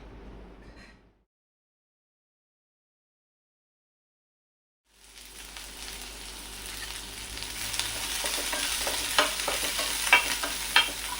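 Onion sautéing in a pan for a Vidarbha-style kanda korhuda bhaji, a faint soft sizzle that drops to silence for several seconds, then returns as a steadily building hiss and crackle with scattered stirring clicks.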